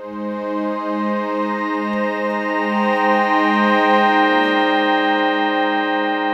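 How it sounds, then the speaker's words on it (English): A sustained Surge XT synthesizer chord swells and rings out in a roomy chamber reverb, with a soft pulsing low note underneath and a long, washy tail. "So that's the sound of our reverb here."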